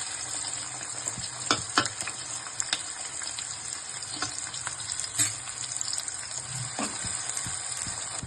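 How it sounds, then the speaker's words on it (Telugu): Chopped onions frying in oil in a pan, a constant bright sizzle with scattered scrapes and taps from stirring, fairly close and without speech. "తగినంత ఆయిల్ పోసుకొని ఉల్లిగడ్డలు దీంట్లో వేసుకొని"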